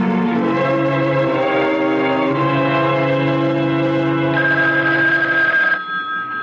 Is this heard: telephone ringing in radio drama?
yes